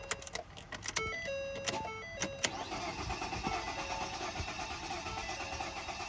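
Ford Fusion engine cranking without catching, a close, loud mechanical whir and chug that runs steadily for several seconds after a few brief clicks and chimes at the start.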